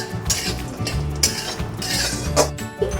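Cashew nuts being stirred in a cooking pan, with a steady run of scraping and clinking of a utensil against the metal and a light sizzle, no voices.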